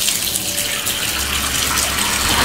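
Water from a household tap gushing steadily and loudly, a continuous hiss with no talking.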